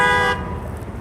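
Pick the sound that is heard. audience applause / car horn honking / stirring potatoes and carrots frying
car horn honking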